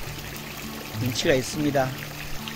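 Water trickles out beside a gate in a Geochang garden with a pond and stream, a steady soft flow running under someone speaking nearby.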